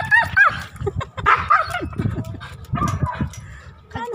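A dog being bathed at home yips, whimpers and barks in short, repeated bursts close to the microphone, with people talking over the sounds.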